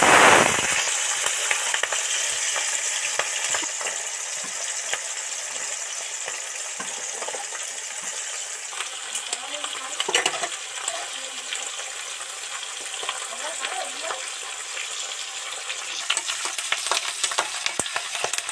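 Salted spring onion stalks fry in a pan for a vegetable and prawn dish, a loud continuous crackling sizzle with scattered pops and occasional stirring, no voices.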